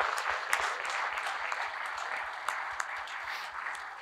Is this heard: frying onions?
no